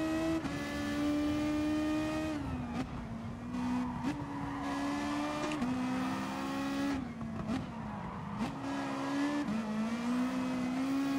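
A race car engine howls and revs hard through the gears on the Nordschleife in GT Sport, with rising pitch sweeps, sharp drops at shifts and brief tyre squeal, loud and continuous.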